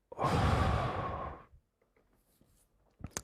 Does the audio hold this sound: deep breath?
yes